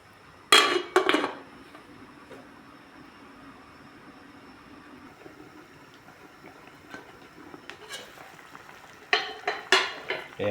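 A metal lid set onto a cooking pot of fish and vegetable soup on the stove, giving a pair of sharp clanks near the start and a quick cluster of metallic clatters near the end, with a low simmering hum between.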